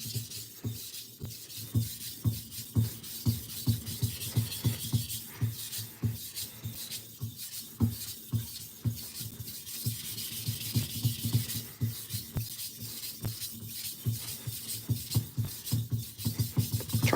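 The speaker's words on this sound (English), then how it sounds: "Just sharpening some kitchen knives here." Kitchen knives drawn across a sharpening stone at a steady, repeated rhythm, each rasping stroke close and clear with no talking.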